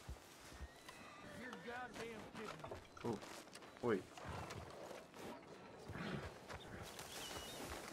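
A horse in a 1920s-style roleplay video game clip-clops and whinnies in short bursts, with one sharp neigh standing out midway, while a person talks excitedly over it.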